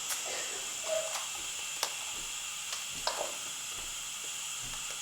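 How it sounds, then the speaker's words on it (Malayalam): Mustard seeds crackle in hot coconut oil in a pan, a steady sizzling hiss broken by a few sharp, scattered pops, close and moderately loud with no talking. "കടുക് പകുതിയോളം പൊട്ടി ഈ പാത്രത്തിൻ്റെ പുറത്ത് വന്നിട്ടുണ്ട്."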